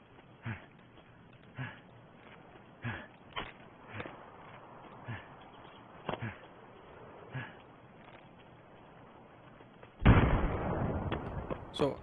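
Gunfire in Escape from Tarkov, a series of muffled, distant shots spaced irregularly at first, then a sudden loud, sustained burst of noise near the end.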